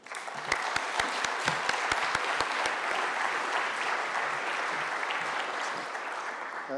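A conference audience applauds at an awards ceremony as a speaker is welcomed to the stage, steady clapping filling the room and easing slightly toward the end.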